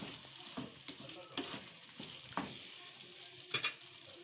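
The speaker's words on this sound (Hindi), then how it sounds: "इसको हम मिक्स कर लेंगे ताकि इसके अंदर इसकी खुशबू बैठ जाए।" Chopped green chillies, coriander and mint stirred into beef pasanday in a pan, soft scraping and clinking of a spoon over a light sizzle, close and quiet, with a few faint voice fragments.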